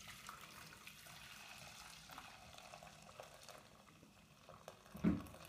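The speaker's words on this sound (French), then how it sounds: "on va y ajouter donc 1 litre d'eau bouillante" Boiling water is poured onto grated Marseille soap, a soft, steady splashing stream close by that runs for several seconds, ending with a brief, louder clunk.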